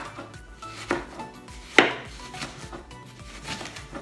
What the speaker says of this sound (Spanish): lo que voy a hacer es partir la cebolla